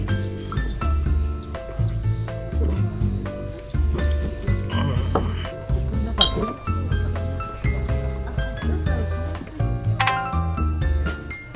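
Beer glasses clink repeatedly in bright, ringing taps during a toast amid lively conversation and background music in a mountain hut restaurant at Oze, Japan.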